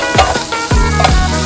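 Masala spices for a village-style breadfruit and coconut curry fry in a pan, a steady loud sizzle with a few stirring scrapes sweeping through it, close up, no one talking.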